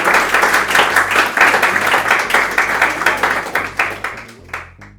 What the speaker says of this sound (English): I was going to ask for the round of applause